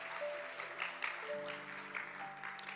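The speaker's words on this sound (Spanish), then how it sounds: "denle un fuerte aplauso a Cristo de la gloria" Congregation applause during an evangelical church service, clapping spread beneath sustained organ or keyboard tones that shift pitch, the claps fairly soft against the music.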